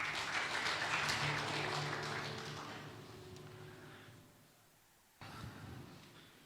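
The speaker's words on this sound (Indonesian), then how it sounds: "tepuk tangan dulu semuanya." A church congregation at a Sunday service applauds, loud clapping at first that fades away over a few seconds before a brief sharp noise breaks the quiet.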